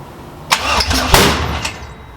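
A 6.0-litre Trans Am engine cranks and catches in a couple of loud bursts, rumbling briefly before settling, with no talking.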